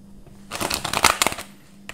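A quick riffling rush of cards being shuffled, a brief flurry of crisp ruffling that rises and fades within about a second.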